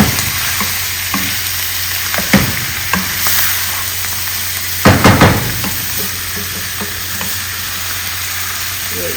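Chicken liver (kaleji) frying and being stirred in a pan, with a steady sizzle throughout and occasional sharper clatters of a spoon, loudest around the middle, no talking.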